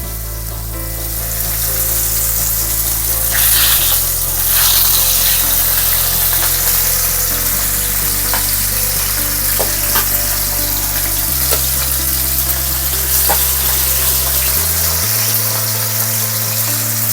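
Chicken pieces fry skin-side down in a pan of hot oil, a steady close sizzle and crackle holding for the whole stretch with a low hum beneath and no talking.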